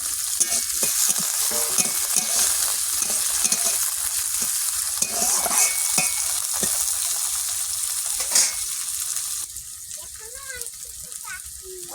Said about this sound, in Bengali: তেল গরম হয়ে গেছে তেল রসুন আদা এই আদা না রসুন লঙ্কা তারপর দিয়ে দিলাম